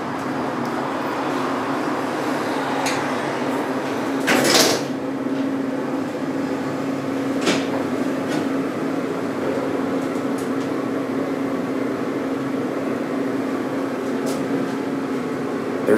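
Montgomery hydraulic elevator, modernized by Kone, descending at a station, giving a steady loud hum and drone with a few brief clunks and knocks near and alone.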